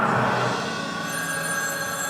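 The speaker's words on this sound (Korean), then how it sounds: "그에게 전화를 건 사람은 바로 영국의 수사 로이드 조지였습니다" A telephone rings continuously, a fairly loud trilling tone that persists through the whole moment, alone with no voices.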